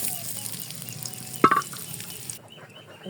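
Chopped onions fry in hot oil in a pan, a steady close sizzle with a sharp clatter midway as more onion goes in, and the frying continues more faintly afterward.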